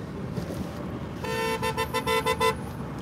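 Car horn honking repeatedly in Las Vegas traffic, a series of loud toots in a rough rhythm after a moment of road noise, close by.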